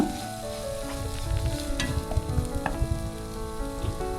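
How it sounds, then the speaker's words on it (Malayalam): Grated coconut being stirred into a hot pan with turmeric and chili powder, a steady close sizzle under repeated scraping strokes of a spoon. "ഇതിലേക്ക് 1 കപ്പ് തേങ്ങ ചിരണ്ടിയത് ചേർക്കാം. അതൊന്ന് ഇളക്കുക."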